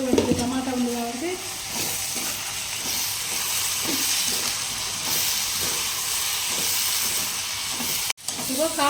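Chili powder sizzles and fries in a pan of bean and tomato curry, a steady loud hiss of oil and steam with occasional stirring scrapes, and a voice briefly at the start.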